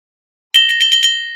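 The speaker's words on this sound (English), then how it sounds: "Right at the very start, there's a school bell that goes" School bell, the opening of a song, rings five quick, bright, evenly spaced dings at close range after a brief silence, with a ringing tail.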